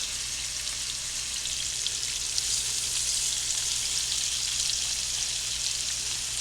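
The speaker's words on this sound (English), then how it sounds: "You want that nice sear on these all the way around." Swedish meatballs searing in a skillet give off a steady, even hiss of hot fat that holds without a break, close and moderately loud, with no voices over it.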